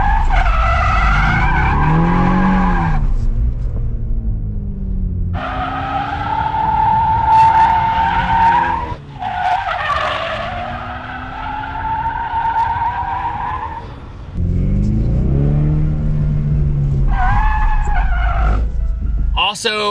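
A 2024 Mustang GT S650 drifts with its drift brake engaged, engine revving hard in long rising and falling pulls while tires squeal and skid, loud and close, with a few brief lulls between runs.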